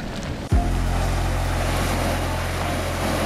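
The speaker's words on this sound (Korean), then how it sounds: "파도가 치네? 우와 장난 아니다." Steady roar of ocean surf and wind rushing across the microphone at Yellowstone, with a brief low thump near the start and a continuous rumbling wash throughout.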